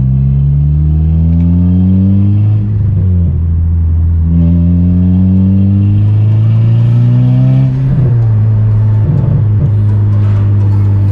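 A turbocharged Honda Civic is driven hard, its engine repeatedly revving up through rising pitch sweeps with brief dips between gears, loud and close from inside the car, with no voices.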